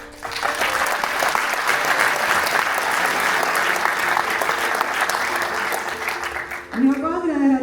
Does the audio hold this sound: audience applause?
yes